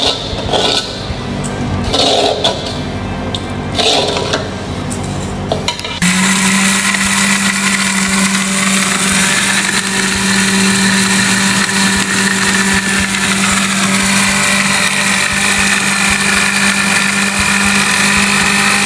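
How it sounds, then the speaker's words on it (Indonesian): A dry blender grinds roasted ingredients for a chicken-flavoured seasoning to go with Papuan taro noodles, a loud steady close whir with a rough grinding texture that changes into a higher, even motor drone partway through. "Hasilnya kemudian kita blender dengan blender kering"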